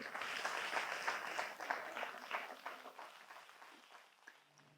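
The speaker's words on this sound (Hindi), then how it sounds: "तो एक जोरदार ताली उनके साथ, उनके लिए हम बजाते रहे" A congregation at an East Indian Fellowship 18th anniversary church service claps together in a steady, fairly soft burst of applause that gradually thins out and fades over about five seconds.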